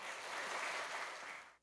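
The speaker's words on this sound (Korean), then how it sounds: "우리 나오실 때 박수로 함께 하도록 하겠습니다" A church congregation at a Sunday worship service claps together as a pastor comes forward, a soft, even wash of applause that fades out at the end.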